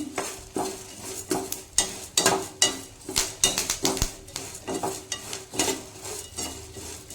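Curry leaves roasting with spices in a pan, heard as a quick, rhythmic run of scraping and clinking from a spoon stirring against the metal, with a light sizzle underneath, close and fairly loud.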